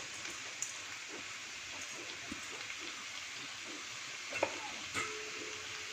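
Soaked rice is tipped into vegetables in a pressure cooker and fries with a steady, even sizzle, broken by a few faint clinks and scrapes, with no talking.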